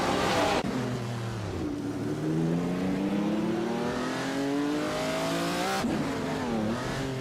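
Race cars including older Maseratis and a Ferrari roar loudly through a video game race, engines revving up and down through gear changes with rising and falling pitch, close and continuous.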